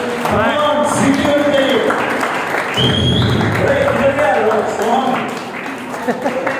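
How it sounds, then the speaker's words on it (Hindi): A church congregation applauds loudly for Jesus, dense clapping mixed with shouts, voices and music filling the hall close and loud throughout. "जोरदार तालियां यीशु के लिए"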